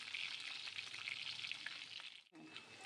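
Garlic ginger paste sizzling in hot oil with fried green chillies in a tempering, a steady bright crackling hiss that runs continuously, briefly dropping out near the end before resuming.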